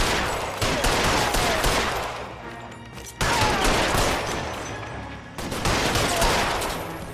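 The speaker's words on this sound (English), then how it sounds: "I shot him like right in the dick" Loud, dense bursts of gunfire from L.A. Noire, a 1940s detective video game, roaring in three long sustained volleys separated by brief drops, with no talking over them.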